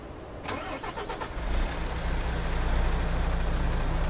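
A Neoplan City bus engine in Euro Truck Simulator 2 cranks with a short burst, then catches and settles into a steady, deep idle rumble that grows slightly louder, heard alone.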